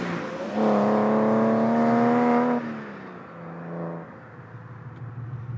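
A Porsche 911 (996) engine pulls hard with a loud, rising drone, drops off at a gear change, then pulls again more softly before settling to a low cabin rumble. No voices.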